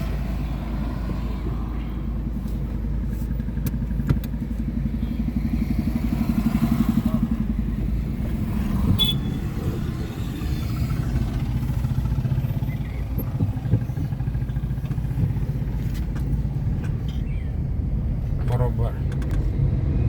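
A learner's car rolls along during a driving school lesson, its engine humming steadily with occasional clatter and passing traffic, while the instructor and driver talk inside.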